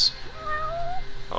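A cat meowing in the video game Judgement, one clear drawn-out meow with a rising then gliding pitch, close and distinct, followed by a brief click.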